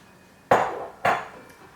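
A spoon stirring creamy, cheesy potato soup with plant-based cheese sauce in a pot gives two sharp clinking scrapes against the metal, close and fairly loud, with a fainter tap at the end.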